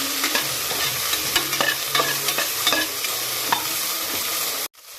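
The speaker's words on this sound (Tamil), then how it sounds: "கொஞ்சம் உப்பு சேர்த்துட்டு இப்போ வதக்கி பாருங்கள்." Okra sautés and is stirred in a pan with salt, a dense close sizzle broken by repeated scraping strokes of a spoon, steady throughout before cutting off abruptly near the end.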